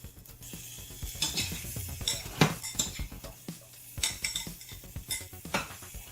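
Salmon is stirred into ponzu sauce in a pan, with repeated close clinks and scrapes of a utensil against the pan in an irregular rhythm and a faint sizzle beneath.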